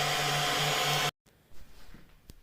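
A hair dryer powered through a 1500 W 12/220 V inverter gives a steady, whirring blower drone with a tonal hum for about a second, then cuts off abruptly, leaving quiet room noise.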